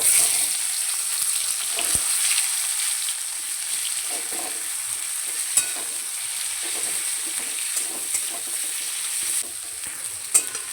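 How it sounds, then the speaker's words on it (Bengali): Chopped onion fries in oil seasoned with dried red chili and whole cumin, a bright steady sizzle with soft stirring scrapes and occasional spatula taps, close and unbroken by talk. "একটু লাল লাল করে ভেজে নেব"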